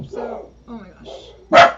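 A dog barks a few times close by, short yips mixed with a person's brief exclamation.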